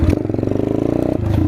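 A Chinese dirt bike engine revs hard and close, its rapid popping exhaust pulses climbing in pitch and then briefly dropping off before picking back up, loud and alone.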